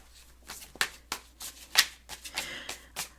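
Tarot cards are shuffled and handled close by, a quick run of soft riffling flicks and taps at an uneven rhythm, quiet and with no talking.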